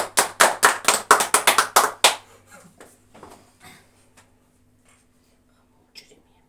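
Hand clapping at a home birthday celebration, a quick string of about a dozen close, sharp claps over two seconds, then trailing off into faint taps and near silence.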